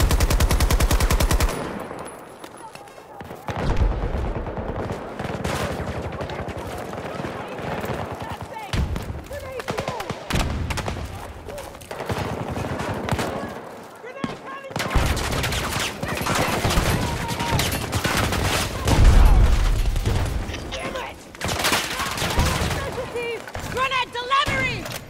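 Automatic gunfire in Battlefield 2042 multiplayer, dense bursts of rapid shots stretching across the clip with heavy impacts and battle noise, mixed under player chatter.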